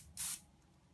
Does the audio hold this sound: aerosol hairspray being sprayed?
yes